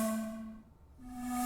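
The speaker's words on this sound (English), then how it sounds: "I also layered it with this white noise or cymbal, reverse cymbal, so it sounds like this." A reverse cymbal layered with white noise fades out and then swells back in over a steady tonal pad ambience, smooth and airy in an electronic track.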